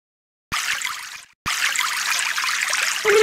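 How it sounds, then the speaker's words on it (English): In the Kick The Buddy video game, a liquid weapon pours a gushing stream of water: a brief splash, a sudden cut to silence, then a longer, continuous pour. "Water, water everywhere!"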